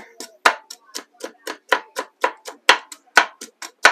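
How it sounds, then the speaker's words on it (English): A knife chops onions on a cutting board in a home kitchen: about fifteen crisp, close strikes in a fairly even rhythm, with no talking. "But I hate cutting onions up"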